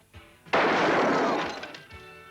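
A single loud gunshot blast from a film trailer, a sudden broad burst that rings on and slowly decays over about a second and a half, preceded and followed by brief faint sounds.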